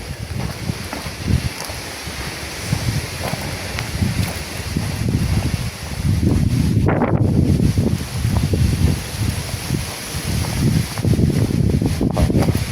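Strong wind buffets the microphone outdoors at a military barracks at night, a steady roaring rush with gusts swelling louder in the second half, no voices.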